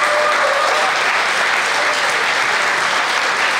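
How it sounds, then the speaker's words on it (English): Steady, dense audience applause at a veterans dinner social in North Reading, Massachusetts, a continuous roomful of clapping hands throughout with no pauses. "Let's give a round of applause."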